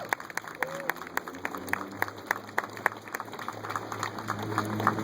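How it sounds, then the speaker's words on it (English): Scattered clapping from a modest crowd at a mayoral announcement event, individual sharp claps spaced out at first and gradually thickening and growing louder toward the end, with faint room murmur underneath. "Can we give them a big, big round of applause?"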